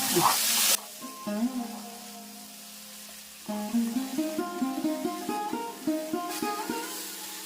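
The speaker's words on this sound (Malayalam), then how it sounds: "ഇനി നേരെ നമ്മുടെ പയറും നമ്മുടെ മത്തങ്ങയുടെ തൊണ്ടും കൂടെ നമ്മൾ ഇട്ടു നന്നായിട്ട് ഞങ്ങൾ മിക്സ് ചെയ്ത് കൊടുത്താൽ മതി" Lentils and pumpkin peel stirred in a pan after a short burst of hissing sizzle at the start, followed by repeated clattering scrapes of a spoon against the pan.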